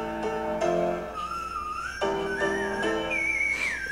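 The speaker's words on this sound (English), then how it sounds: "What's that called? A whistle note?" A male singer climbing into a very high, pure whistle-register note in a vocal cover, the sustained tone rising in steps and wavering at the top, with no talking.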